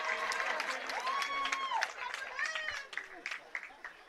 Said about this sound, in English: highlight play now from the fans as the one-handed catch warrants some claps